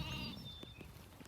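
Katahdin hair sheep bleat in a pasture, a short wavering cry heard at moderate distance that fades into soft outdoor noise.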